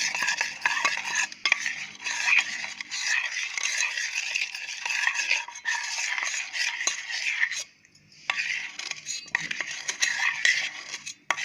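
Maida flour being mixed in a bowl for junnu, with a continuous close scraping and stirring of a spoon against the bowl, rattling busily with a brief pause near the end, no talking.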